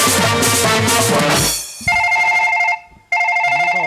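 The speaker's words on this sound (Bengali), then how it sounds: "আমার খুব দরকারি ফোন এসেছে" A phone rings in bursts of repeated electronic tones, loud and close, after a stretch of chanting music, with a brief gap between the two rings and no talk over it.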